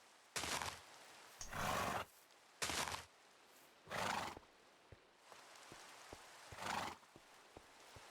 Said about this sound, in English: The grey horse.